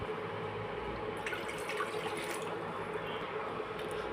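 Water for masala tea runs steadily in a continuous, even stream, as if poured or flowing from a tap, fairly quiet and close.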